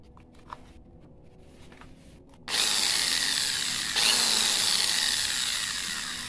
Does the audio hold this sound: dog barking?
no